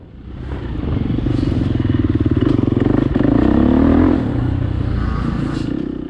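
A Yamaha YZ85 dirt bike engine buzzes steadily on an enduro trail ride, loud and close with a continuous rasping drone that swells slightly in the middle and then eases, with no talk.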